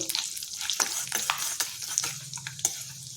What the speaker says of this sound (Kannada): ನಾವು ಬ್ರೇಕ್ ಮಾಡಿ ಇಟ್ಕೊಂಡಿದ್ವಲ್ಲ ಕಡಲೆಕಾಯಿ ಬೀಜ ಅದನ್ನು ಹಾಕ್ಕೊಳ್ಳೋಣ ಇದು ಸ್ವಲ್ಪ ರೋಸ್ಟ್ ಆಗಿ ಹೊಂಬಣ್ಣ ಬರಲಿ